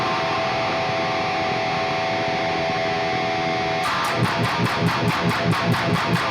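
Electric guitar run through a Bauk distortion plugin with a second plugin stacked on top, a heavy saturated sustained tone that breaks into tight, rhythmic chugging chords partway through.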